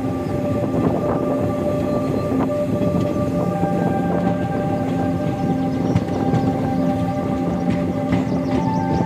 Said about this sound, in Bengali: ট্রেন আমাদের নিউ জলপাইগুড়ি স্টেশন ঢুকছে